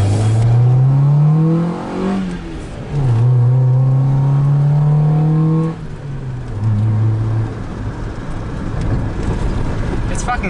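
A Honda EK Civic engine fitted with a cold air intake revs up and down in several swells, a deep throaty drone with induction noise rising in pitch, then settling, heard close and loud.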